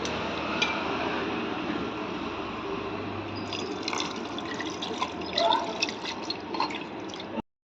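Half a tumbler of water poured into a spiced mutton mixture for kari vadai, a steady close splashing and dribbling that runs for several seconds with brief drips near the end, under faint kitchen background.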